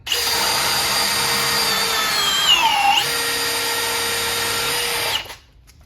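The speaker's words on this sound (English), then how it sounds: "just start testing with the Milwaukee 2904 with the Diablo auger" A Milwaukee 2904 drill drives a Diablo auger bit through wood, a loud, steady close-up whine for about five seconds with the pitch sagging under load midway before the motor cuts off.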